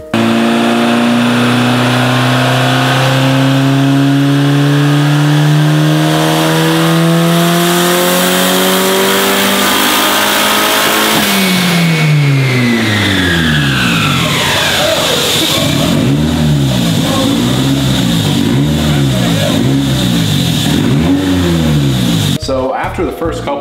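A Honda CRX engine with bigger pistons and heavily advanced cam timing revs hard through repeated pulls, the pitch climbing loudly, dropping, then cycling up and down in rising sweeps before cutting off abruptly at the end.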